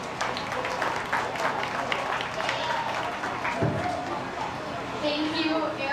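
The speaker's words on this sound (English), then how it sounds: "Give her a round of applause." An audience claps at a goat show at the 2025 Sheridan County Fair, with steady applause filling the ring while an announcer talks over it.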